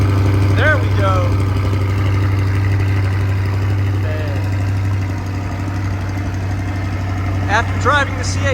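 A stock 2022 Chevrolet Corvette C8 engine runs at a steady, loud, low idle drone throughout, with a voice talking over it now and then.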